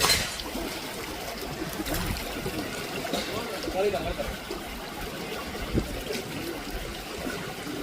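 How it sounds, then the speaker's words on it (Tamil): Steady rushing water from an irrigation canal runs throughout, with a few louder splashes rising above the constant wash and faint voices in the background. "அந்த நிறைய தண்ணி வருது"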